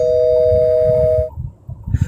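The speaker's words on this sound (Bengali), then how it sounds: "তিনি মিনিট 15 পরে কলিং বেল বেজে উঠল।" An electronic calling bell in a home rings with a steady, sustained tone for over a second, close and clear, then cuts off, leaving faint low room rumble and small stirrings.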